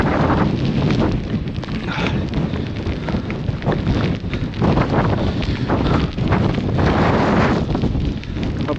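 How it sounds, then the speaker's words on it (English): Strong gusts of wind on the snowy, icy summit of Pen Y Fan in the Brecon Beacons batter the microphone in a continuous loud roar that surges and buffets throughout, with no voices. "Some of these gusts nearly blow you over."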